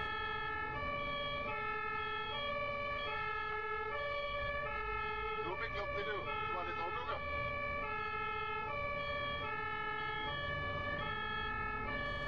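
Two-tone ambulance siren wailing steadily through traffic, loud and continuous, with road noise underneath and a brief burst of extra tonal warbling midway.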